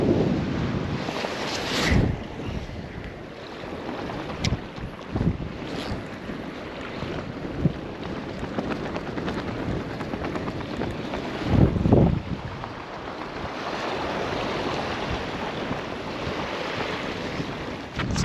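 Strong wind at Black Butte Lake buffeting the microphone for a long stretch, a loud, gusty roar with water lapping underneath and no voices.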